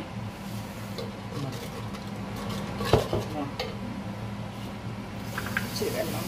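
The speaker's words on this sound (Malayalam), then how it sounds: "എന്നിട്ട് നമുക്കിത് നന്നായിട്ടൊന്ന് വരട്ടിയെടുക്കാം ഇതെല്ലാം കൂടെ ഇട്ട്" Tomato pulissery spices with chili powder are sautéed in a pan, a spoon scraping and stirring against the metal under a low sizzle, with one louder clank midway.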